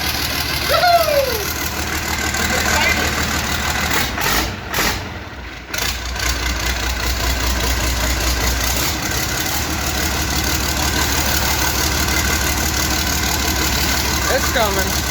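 An International 756 tractor engine runs steadily after an engine swap, a continuous low idling drone that holds for the whole stretch, with a brief dip partway through and voices speaking faintly over it.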